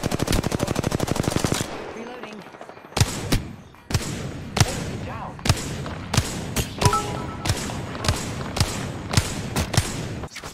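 Rapid automatic gunfire in a video game, a fast burst followed by a pause and then a string of loud, evenly spaced single shots, close and sharp, with a little talk in the background.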